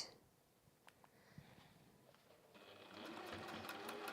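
A sewing machine top-stitches around the opening of a Christmas stocking. A few faint clicks come first, then the motor whirs steadily and close for the last second and a half.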